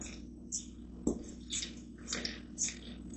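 Water and honey mixture being stirred into flour and salt with a spoon for sfogliatelle dough, giving soft, wet squishing sounds in several short bursts at close range.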